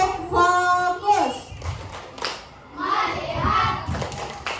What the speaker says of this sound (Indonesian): tepuk fokus.